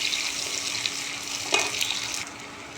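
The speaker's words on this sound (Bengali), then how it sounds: "পেঁয়াজ কুচি দিয়ে দিই। পেঁয়াজ কুচি দিলাম," Chopped onions hiss and crackle in hot oil in a pan, a bright steady sizzle with a brief stir or splash midway, then slightly quieter frying.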